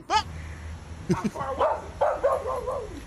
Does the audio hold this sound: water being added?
no